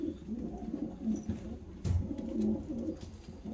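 A pair of Arab posta pigeons coo softly nearby, low throaty rolling calls repeated over faint background noise.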